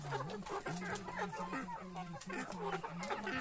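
Several six-month-old native chickens cluck in a busy, overlapping chorus, with repeated short calls close by and a faint voice mixed in.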